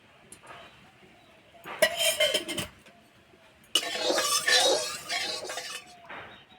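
Clattering metal comes from a kadai (wok) being set onto the stove, heard as two loud, close bursts of clanks and scraping with quiet between them.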